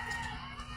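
A chicken clucks continuously at close range for under a second, with steady low rumbling noise beneath and no talk.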